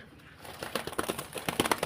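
Racing pigeons making soft, close coos and rustling sounds, short repeated calls growing busier after a quiet start.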